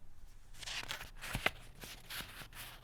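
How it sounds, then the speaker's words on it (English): Sheets of bond paper rustle and crinkle as they are handled, several soft, crisp bursts of shuffling close by in a quiet room. "That, ladies and gentlemen, is the sound of bond paper."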